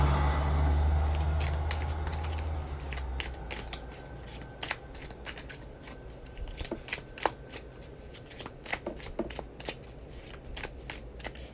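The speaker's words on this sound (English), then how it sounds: "That was a poor shuffle, guys." A deck of tarot cards being shuffled close up: a low rumble at first, then a rapid series of crisp riffling flicks and snaps.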